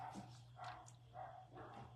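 Neighborhood dogs barking a few times in short bursts, faint and distant over a low steady hum.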